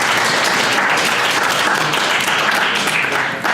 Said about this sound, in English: give our 3 judges a round of applause for their work